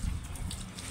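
Water poured onto young guava plants in a sunny garden, a brief close and loud gushing splash.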